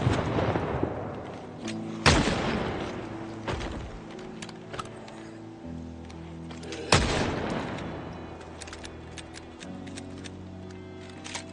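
Shotgun blasts in the zombie survival game Project Zomboid: two heavy, booming shots several seconds apart, each ringing out and fading over a low, steady game backdrop, with smaller thuds between them.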